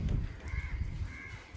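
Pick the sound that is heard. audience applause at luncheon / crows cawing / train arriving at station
crows cawing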